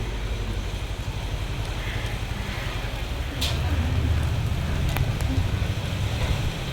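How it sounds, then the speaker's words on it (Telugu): Rain falling in big drops outside a home, a steady close hiss of water with occasional sharper drop hits, growing a little heavier partway through. "అమ్మ బండ బండ చినుకులు పడుతున్నాయి"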